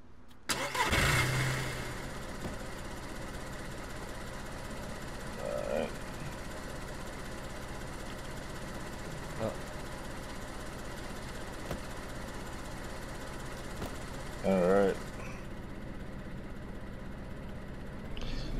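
Car engine in the DayZ video game with its engine in the back, cranking to life with a loud burst at the start, then a steady low idle running on for many seconds, with a second revving surge later.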